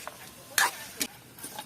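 Food sautéing in a pan with fish sauce (patis) in a home kitchen, with brief bursts of sizzling and stirring scrapes that come in a few separate pulses over a quiet background.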